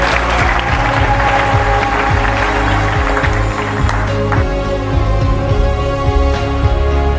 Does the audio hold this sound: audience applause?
yes